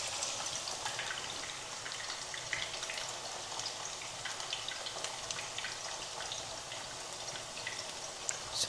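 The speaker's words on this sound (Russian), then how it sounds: "пока те баклажаны жарятся" Eggplant pieces fry in an oiled pan with a steady, hissing sizzle and small crackling pops, heard up close, moderately quiet and continuous, with no talking.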